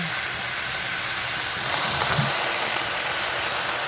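Kangkong (water spinach) leaves hit a small amount of hot sesame oil and sizzle with a steady, close hiss that holds level throughout, with no talking.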